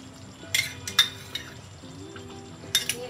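Curry being stirred in a pan after ghee is added for soya bean kofta, with a few scraping, clinking strokes of a utensil against the pan over a low steady sizzle.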